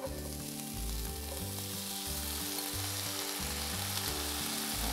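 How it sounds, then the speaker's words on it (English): Black beans sizzle loudly and steadily in a hot pan, a constant crackling hiss with a low rhythmic thumping underneath. "that's going to get the sizzle going"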